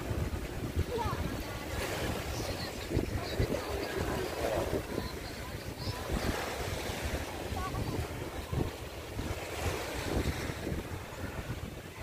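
Sea waves washing along Dolomite Beach, a continuous surf roar with gusty wind buffeting the microphone and distant crowd murmur from people wading in the water, steady throughout.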